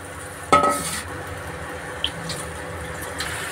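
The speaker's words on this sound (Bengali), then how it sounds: "ছানা দিলাম, একটু জল দিয়ে মশলার জলটা দিয়ে ভালো করে কষিয়ে নেব।" Chhana frying with tomato and spiced water in a pan: a sharp splash and sizzle as the liquid goes in, then soft stirring scrapes and light clinks over a low, steady sizzle.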